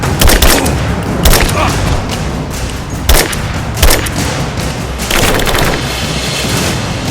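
Suppressing gunfire in a firefight in Rise of the Tomb Raider, loud rapid bursts and repeated shots in clusters, with shouted voices mixed in.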